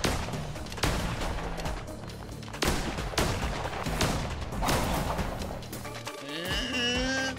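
Sniper shots ring out in a video game: about five loud, sharp blasts at irregular intervals, each trailing off, with a brief rising electronic tone near the end.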